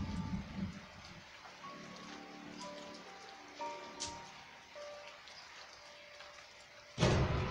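Steady rain patters softly beneath gentle, sparse musical notes in the horror game Slendrina 2D, ending in a sudden louder rush of rain or thunder.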